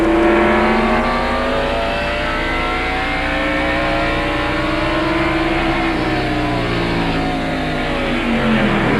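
Stock race cars roar around North Wilkesboro Speedway in a 1992 race, a loud, steady wall of engine noise with several cars revving together and pitch swells as the pack passes, no talk.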